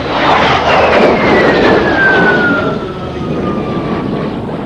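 A de Havilland Vampire T.55 two-seat jet trainer flies a solo air-show display at the Royal International Air Tattoo, its loud continuous jet roar sweeping past with a descending whine as it passes overhead.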